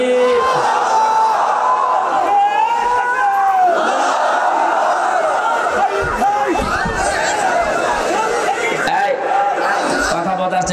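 A large crowd at an outdoor religious sermon shouts takbir back in unison, a loud, sustained mass of voices that rises and swells throughout.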